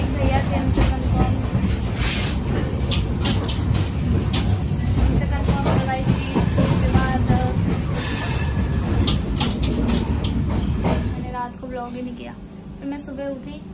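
A passenger train rolls along the rails with a steady, loud rumble and rhythmic clatter, then drops to a quieter hum near the end.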